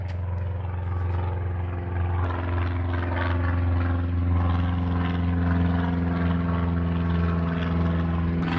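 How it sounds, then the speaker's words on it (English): A propeller airplane passes overhead with a steady, droning engine hum that holds loud and even for several seconds, alongside a low rumble. "Check out this plane."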